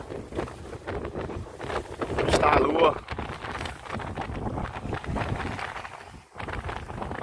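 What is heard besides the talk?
strong wind at night by the water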